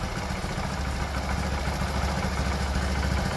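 A motorcycle engine idles steadily and close by while its carburetor is being adjusted, a continuous low rumble with light mechanical clatter and no voices.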